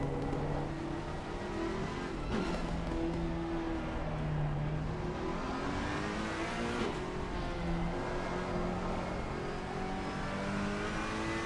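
V8-engined race cars lapping Paul Ricard, likely in a sim-racing broadcast, engines droning and revving continuously with shifting pitch as they run through sector one, steady and close with no talk.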